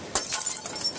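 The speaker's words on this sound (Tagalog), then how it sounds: "Parang narinig kong may nabasag na paso." A clay flower pot breaks in one short, sharp shattering crash near the start, followed by a faint scatter of debris against a dim background.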